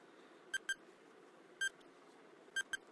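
Countdown timer in an English vocabulary quiz, sharp electronic beeps in paired bursts repeating about once a second over a soft background hiss, with no speech.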